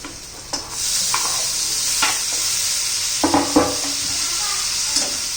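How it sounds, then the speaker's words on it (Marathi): Onions for masala pav sauté in a pan with a steady sizzle and occasional spoon scrapes and stirring knocks against the metal. "दोन चार मिनिटं लागतील तोपर्यंत परतून घेऊया हे पहा कांदा झालेला आहे"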